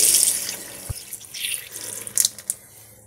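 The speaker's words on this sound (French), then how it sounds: "casser la pression en ouvrant un robinet d'eau chaude" Water rushes from an opened hot-water tap while a Saunier Duval boiler's pressure is released, a steady hissing flow with a knock and a few clinks partway through.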